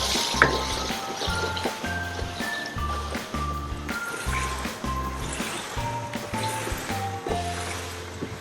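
Chicken pieces sear in a karahi for butt karahi, a continuous hissing sizzle with occasional stirring scrapes, heard under steady background music.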